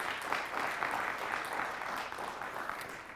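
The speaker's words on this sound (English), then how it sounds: "Let's have a round of applause for them as well" Steady audience applause at a high school quiz bowl tournament, a dense even patter of clapping hands that holds for the whole stretch at moderate loudness.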